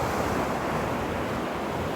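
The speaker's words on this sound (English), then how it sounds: "My goodness, they're like those slow roller waves, which we don't often see here on the East Coast." Slow rolling ocean waves break along an East Coast shore, a steady, full wash of surf noise with some wind rumble, close and continuous, with no voices.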